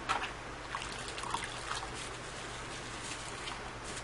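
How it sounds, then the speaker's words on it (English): Hot soapy water poured onto wool fibers during felting, a soft steady trickle and splash that runs quietly through the whole moment with a few brief louder spatters. "I'm going to add some hot soapy water again."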